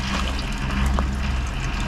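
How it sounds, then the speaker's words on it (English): Water flowing back through a cut plumbing line from a tank, a continuous close trickling and splashing with a brief gurgle partway through. "Oh, look at the water coming back."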